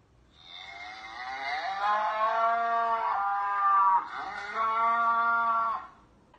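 Cows in a video game give a drawn-out, tonal lowing call that rises and then breaks into a second moo, fairly close and clear with no talking.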